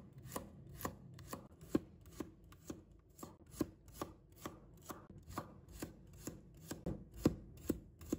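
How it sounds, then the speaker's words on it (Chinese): A knife slices a handful of garlic cloves on a cutting board with regular, crisp chops, roughly two per second, close and clear with no talk. "接下来我们准备一把大蒜，把它切成片。"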